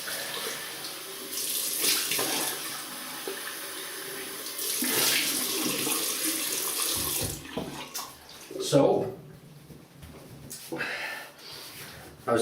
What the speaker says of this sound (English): Right, I'll just rinse off.